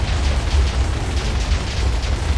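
Minecraft explosions blowing up a house, a loud, continuous rumbling roar of overlapping blasts with heavy low boom and crackle, sustained for over two seconds with no speech.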